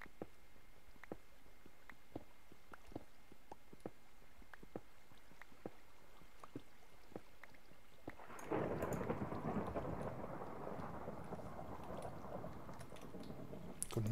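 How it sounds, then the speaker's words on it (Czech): A Minecraft thunderstorm: sharp repeated clicks over faint ambience give way about halfway through to a loud, steady wash of rain with rumbling thunder, no voices. "mám takový pocit, jako, že je venku bouřka"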